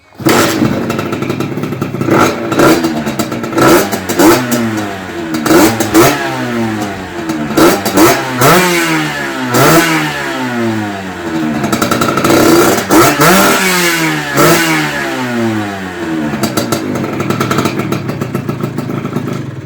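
A Rieju MRT motorcycle engine revs hard and repeatedly, pitch sweeping up and down in quick loud bursts that run continuously close by, with no talk.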